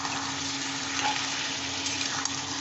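Bottle gourd with ginger paste is stir-fried in a pan for a coconut-milk lau ghonto, making a dense, even sizzle that stays constant throughout with a faint scrape near the end. No one speaks.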